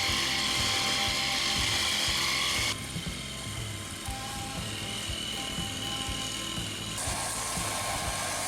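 An agricultural drone sprays rice fields in Taiwan, giving off a steady, close, buzzing rotor whine with rhythmic pulsing that shifts in tone partway through.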